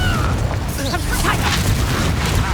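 A fiery Confringo blast spell in the video game Hogwarts Legacy, a heavy booming explosion with a dense rumbling body throughout, joined by brief voice-like chirps and effects.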